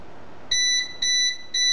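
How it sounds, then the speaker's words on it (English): Fan stall alarm on a Reeven Six Eyes fan controller, triggered when a spinning fan is stopped by hand: three loud, shrill electronic beeps, each about a quarter second long and evenly spaced, over faint background hiss. "there we have the audible alarm, which obviously you can set and control using the back of the actual control panel."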